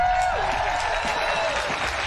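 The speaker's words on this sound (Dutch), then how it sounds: "applaus alsjeblieft" Audience applause greets a speaker at a women's freedom event, steady clapping across the room, with a short vocal tone over it at the start.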